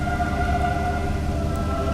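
Pouring rain in a dramatic audio story, a steady dense wash of rainfall with low rumbling beneath and faint tonal hum, continuous and fairly loud throughout with no voices.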